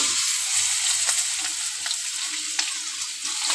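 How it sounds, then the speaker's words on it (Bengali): Cut potato and eggplant sizzle in hot oil with black cumin seeds in a pan for a hilsa curry, a steady bright crackle with occasional stirring clicks, close and continuous without talk. "এবার আমি কেটে রেখেছিলাম আলু বেগুন দিয়ে দেবো"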